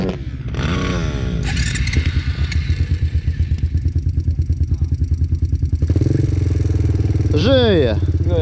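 An LTZ 250 quad engine being restarted after a rollover: it cranks and sputters, then catches into a loud, rapidly pulsing idle and revs up near the end, close by.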